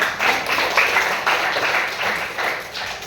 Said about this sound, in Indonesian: tepuk tangan untuk teman kita